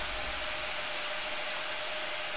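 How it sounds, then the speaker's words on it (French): A vacuum cleaner runs in the next room, a steady, faint broadband whir that holds unchanged throughout, with no talking. "s'il y a un peu de bruit, c'est parce qu'à côté il y a quelqu'un qui fait l'aspirateur"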